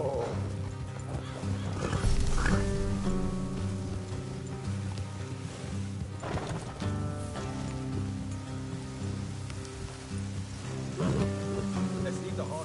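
Horses in Red Dead Redemption 2 clip-clop along with occasional snorts and whinnies, set against a layered bed of ambient music and rain-like hiss.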